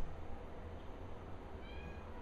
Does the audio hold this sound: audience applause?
no